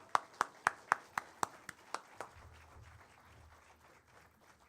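Eight or nine sharp hand claps in a steady rhythm from a small group at a police honor guard swearing-in ceremony, fading out after a couple of seconds, leaving a low rumble.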